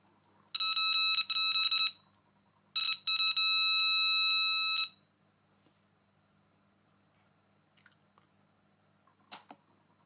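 Two bursts of rapid, shrill electronic beeping from an Arduino ultrasonic sensor, close by, each lasting about a second or two, followed by quiet with a few faint clicks.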